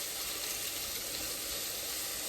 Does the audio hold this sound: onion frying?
yes